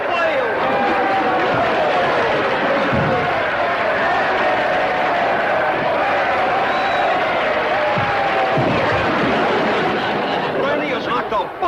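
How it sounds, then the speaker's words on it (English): TV studio audience at a wrestling match in a 1962 Beverly Hillbillies episode roars and cheers continuously, a loud dense crowd wash with shouts rising over it and occasional thumps, sustained without pause. "This crowd is going wild."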